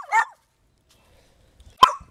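A small dog gives two short, sharp barks, one at the very start and another near the end, close and loud with near silence in between.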